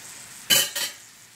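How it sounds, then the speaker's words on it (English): Vegetables sautéing for a homemade vegetable soup, heard as two short close bursts of stirring and sizzle in a pan, the second weaker, with no talk. "Do you hear that sizzling?"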